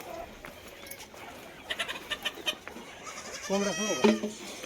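Goats in a shed let out a short bleat or two near the end, after soft scattered thumps and rustling, with a voice speaking nearby.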